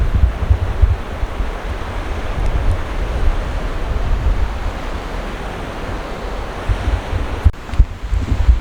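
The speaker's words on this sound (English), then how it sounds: "where you can sit and just relax as the waves break over the perimeter of this thing" Ocean waves break and wash around the edge of a salt pond at low tide, a steady broadband surf roar heard close up, roughened by wind buffeting the microphone, with no voices.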